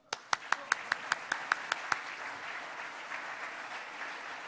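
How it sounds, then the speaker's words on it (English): A Rotary club meeting audience applauds visiting guests: about nine crisp, evenly spaced claps from one nearby pair of hands open the round, then blend into softer, steady clapping from the room. "Let's give them all a round of applause."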